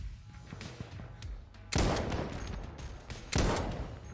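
Gunfire in Insurgency: Sandstorm: two loud, sharp shots about a second and a half apart ring out over quieter background rumble and faint distant pops.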